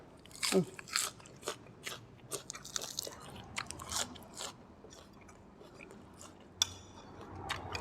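Close, crisp crunching and chewing of spicy pounded cucumber salad with fermented fish sauce and fried chicken, irregular bites with quiet gaps, no talk.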